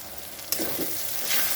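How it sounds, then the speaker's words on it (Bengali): Brinjal frying in a pan sizzles steadily and close, with a soft stir or crackle bursting out midway and no voices. "দেখুন বেগুনটা ভাজা হয়ে গেছে পুরো"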